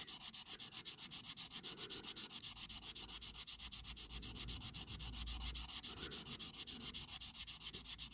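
Steady, rapid back-and-forth scraping of abrasive against a pitted window of a 1950s Corgi Standard Vanguard diecast toy car, rhythmic and close, continuing without pause.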